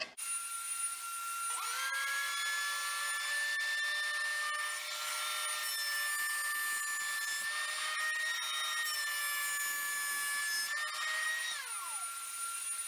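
Planer milling purpleheart wood, a loud sustained machine whine with a steady tonal pitch that rises as the board feeds through, continuous for about ten seconds before winding down, without speech.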